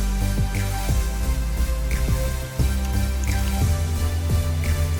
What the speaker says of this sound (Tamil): இதை எடுத்து தண்ணிக்குள்ளே போட்டு நல்லா வாஷ் பண்ணிடுங்க